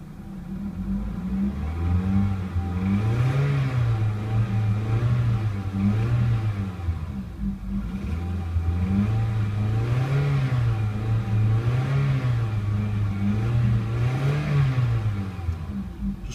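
A 2001 Toyota Celica GT engine with about 191,000 miles runs steadily up close, its tone rising and falling in a series of smooth revs over a continuous idle hum, with no talking.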